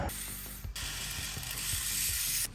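A ratchet with a 21mm socket works a suspension bolt on a 2014+ third-generation MINI Cooper, giving a steady run of quick mechanical clicks with a brief pause partway, close and loud, with no talking.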